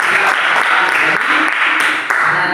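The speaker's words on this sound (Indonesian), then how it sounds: "kasih tepuk tangan untuk mereka." Schoolchildren in a classroom clap their hands together, a close, loud patter of many claps with a few sharper distinct hits, lasting a couple of seconds without talk.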